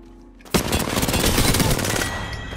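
Sustained automatic gun burst in the Apex Legends video game, starting abruptly about half a second in and roaring loud and dense for two seconds with no talk.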